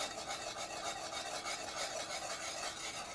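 Grits stirred into simmering soup stock for a grits and collards soup, giving a steady, close scraping rasp with a faint sizzle underneath, continuous and without talk.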